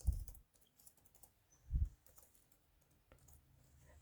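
Typing on a computer keyboard comes through as faint, close clicks and taps in short irregular bursts, with a couple of louder thumps, in a quiet room.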